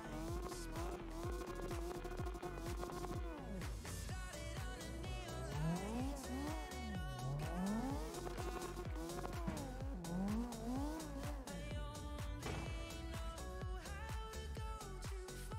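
Tires squeal in long, wavering sliding tones as a car drifts in CarX Drift Racing Online, engine revving and bouncing off the limiter throughout, steady and close with no talk.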